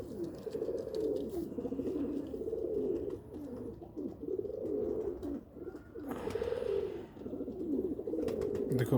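Pigeons coo continuously at a loft in Faisalabad, a steady low burbling chorus of overlapping calls close by, with brief dips in the murmur and a louder swell near the end.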